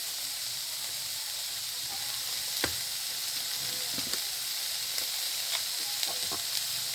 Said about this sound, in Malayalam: അപ്പോൾ ഉപ്പിട്ട് നന്നായിട്ട് വഴറ്റും.